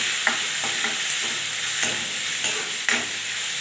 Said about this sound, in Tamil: கொஞ்சம் நல்லா வதங்கட்டும் வெங்காயம்